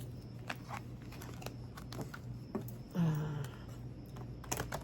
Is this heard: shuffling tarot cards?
yes